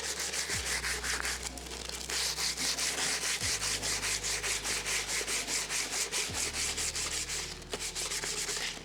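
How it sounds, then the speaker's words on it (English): Sandpaper rubs rhythmically against the metal surface of a car differential being prepared for POR15 coating, a steady back-and-forth scratching heard close up and alone, with faint low hum beneath. "Trying not to destroy too much my sandpaper."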